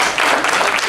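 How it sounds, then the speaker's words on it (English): Applause from an audience at a political campaign forum: a brief, dense burst of many hands clapping, fairly loud and sustained, with no talk on top. "You can applaud."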